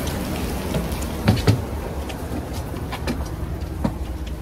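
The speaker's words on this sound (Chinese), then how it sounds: "直接下大雨啊！" Heavy rain falls steadily outdoors as a broad, continuous hiss, with a few brief louder splatters or thumps standing out over the wash.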